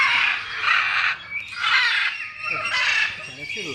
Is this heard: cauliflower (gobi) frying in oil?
no